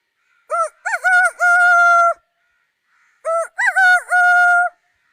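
A person imitates a chicken with two clucking, crowing-like bursts of rising and falling cries separated by a pause, loud and close with silence between, no other talk.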